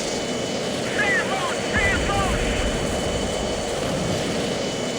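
A jet fighter engine at full throttle in Strike Fighters during a strike near Haiphong: a constant, loud broadband roar with a brief deeper surge midway and what sounds like a faint voice underneath.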